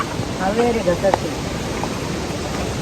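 A waterfall gives a steady, broadband rushing hiss throughout, with a faint voice briefly present early on.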